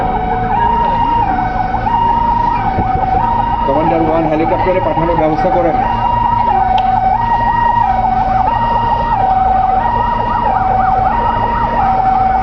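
An ambulance siren wails during an airport crash emergency drill at Sylhet Osmani International Airport, a loud, near two-tone cycle repeating steadily throughout while someone talks over it.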